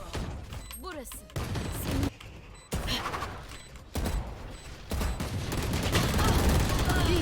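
Gunfire bursts from the Valorant video game come in several loud rapid volleys separated by short gaps, mixed with game effects and voices talking over the action.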